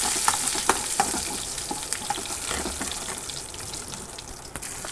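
Chili peppers and curry leaves frying in a pan for vankaya pachadi, a steady close sizzle with scattered pops and faint scraping of a spatula, no voices.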